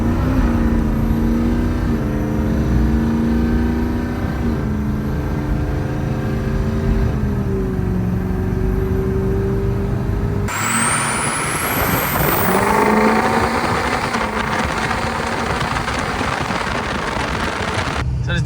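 A loud, close Ford 6.0 Powerstroke diesel pickup engine drones and climbs in pitch, drops as the transmission changes gear smoothly, then pulls up again steadily with road noise throughout.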